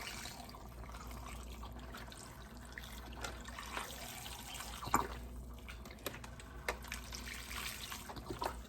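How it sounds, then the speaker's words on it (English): Beef broth, 32 ounces, pours steadily into a pot of Jamaican oxtail stew, a continuous watery trickle and splash with a few small clinks, fairly faint and heard alone. "we're going to add 32 ounces of beef broth"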